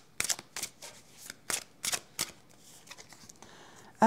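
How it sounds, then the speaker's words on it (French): Tarot cards being laid down, covered and handled on a table make soft, close slaps and papery rustles, about half a dozen spaced strokes followed by fainter shuffling, with no talking. "On va recouvrir ces deux cartes-là, les autres étant très jolies."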